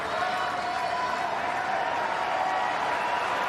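A tennis crowd in Pat Rafter Arena during a United Cup match keeps up a dense, steady roar of cheering and clapping, loud and continuous throughout.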